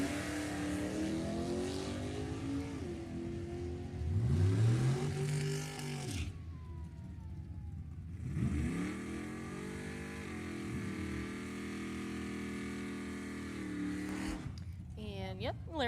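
A 1971 Ford Pinto with a 306 cubic inch Ford motor drag races, engines roaring and revving up through gears with rising and falling pitch, passing loudly, while an announcer talks over the race.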